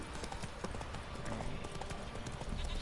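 Roach, the horse in The Witcher 3 video game, gallops with rapid, rhythmic clip-clopping hooves, loud and close over a constant outdoor background.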